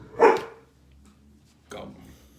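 Dog barking indoors, two sharp barks separated by over a second of quiet, the first louder and nearer, the second shorter and softer.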